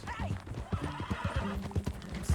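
Horse in the video game Red Dead Redemption 2 giving a brief neigh amid hoof clops, fairly faint and short, over game ambience.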